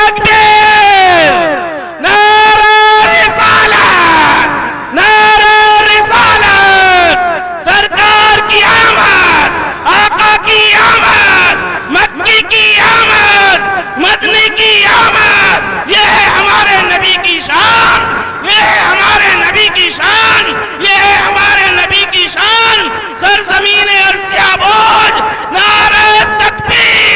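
Jalsa crowd at a naat gathering roaring back in chant after a Naara-e-Takbir call, loud massed voices rising in repeated surges with a strong lead voice over the gathering, continuous and close throughout.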